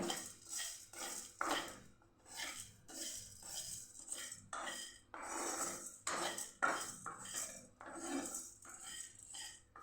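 Repeated scraping and clinking of a utensil against a metal pan while dry roasting cumin and black pepper, a busy stirring rhythm with brief dry rattles, close and steady, no voices.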